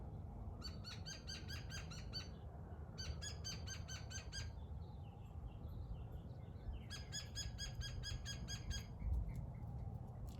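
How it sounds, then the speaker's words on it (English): Outdoors during a yoga session, a bird sings three bursts of rapid, evenly repeated high notes over a steady hiss of ambient noise, with brief softer chirps between. "Is that bird praising me or laughing at me?"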